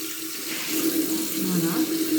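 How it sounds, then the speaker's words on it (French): Hot water runs steadily from a bathroom tap into a sink during a skincare routine, a continuous close splashing stream with no break. "je vais faire couler l'eau chaude"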